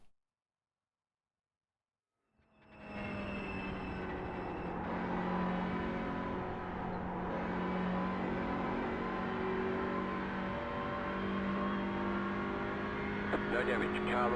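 A TCR race car engine in a racing sim at Willow Springs starts after a short silence and holds a steady, loud, close droning note, rising and falling gently through the gears, with occasional small clicks near the end.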